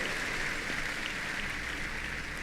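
A church congregation applauding, a dense, even wash of clapping from many hands that holds steady and fills the room for a few seconds, without speech.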